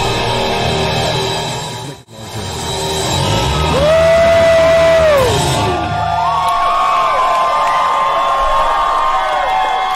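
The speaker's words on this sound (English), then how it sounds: "It definitely sounds like a huge crowd." A huge concert crowd packed close together at a performance cheers, yells and whoops loudly, with sustained roaring shouts rising and falling, a brief drop near the start, and tonal screams riding over the din.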